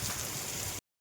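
Heavy monsoon rain pours steadily outside a flooded home yard as a constant loud hiss, then cuts off abruptly just before the end.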